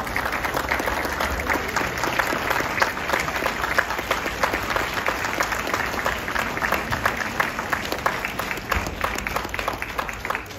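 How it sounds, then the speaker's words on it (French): Sustained crowd applause at an outdoor rally on Place de la Liberté in Brest, steady dense clapping filling the whole stretch at an even, fairly loud level with no pauses. "je vous propose de l'applaudir pour la remercier pour son engagement."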